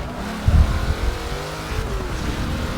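Race car engine in a racing video game, loud and close, as the car brakes and the engine note drops and shifts, with a brief surge early on and no talking.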